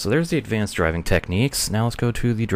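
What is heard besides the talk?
None of the usual background noises is heard.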